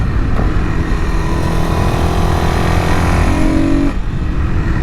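A Suzuki DRZ400SM motorcycle fitted with a modified air box runs steadily under way, its engine note loud, continuous and gritty, with a rising rev tone near the end before it drops off.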